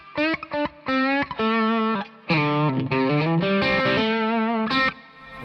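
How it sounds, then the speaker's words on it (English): An electric guitar played through a Fender Bassbreaker 15 amp on a high-gain channel, loud distorted lead phrases with sustained and bent notes separated by brief pauses. "the third option is where the gain really gets up a bit and it gets, well, kind of rude"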